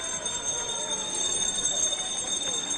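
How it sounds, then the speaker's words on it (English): Lap bells ring through a pool arena during the final 100 meters of a swimming race at the 2023 TYR Pro Swim Series in Fort Lauderdale, bright sustained tones over a steady crowd roar. "Lots of bells means lots of final 100 meters."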